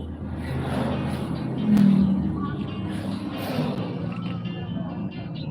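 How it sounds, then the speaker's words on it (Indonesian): Moderate traffic on a road in Prabumulih, South Sumatra, heading toward Palembang, in front of a roadside restaurant: a steady wash of passing vehicle engines and tyre noise, with one car swelling louder as it goes by. "Lumayan rame ini kendaraan yang mau menuju Palembang."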